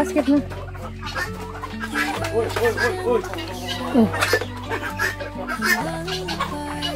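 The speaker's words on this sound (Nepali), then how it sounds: "कुखुराले अन्डा पारेछ उपर बास्केटमा" Hens cluck loudly and excitedly after laying an egg in a basket on a village farm, the repeated calls close and layered over a steady low background hum.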